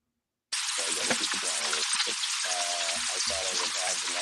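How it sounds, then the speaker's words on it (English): Rain crackles and hisses through a caller's microphone on a live call, a harsh, dense static-like wash that starts abruptly and continues steadily, with faint voice-like tones buried underneath. "All we hear is rain."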